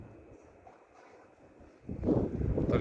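Hurricane-force wind by the sea in Crimea, a soft rushing hiss that swells into a loud, gusty roar over the mic near the end.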